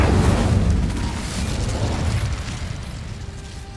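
Incendio fire spell bursting in the Hogwarts Legacy video game, a loud roaring blast of flame right at the start that slowly fades into a crackling rumble.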